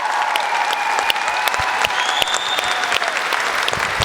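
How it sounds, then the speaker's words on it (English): Audience at Austria Comic Con 2023 applauds Sylvester McCoy at the close of his panel, loud continuous clapping from a big hall crowd with sharp individual claps and a faint tonal whine running underneath. "give a huge round of applause to the amazing Sylvester McCOY"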